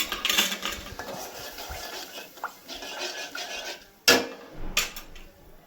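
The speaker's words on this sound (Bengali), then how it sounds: "দেখো চাটা ছেঁকে নিয়েছি" Metal cups and utensils clink and tap while heated tea is strained, a series of sharp, close clatters and scrapes at uneven intervals with one louder clank near the end.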